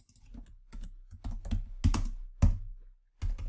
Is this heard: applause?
no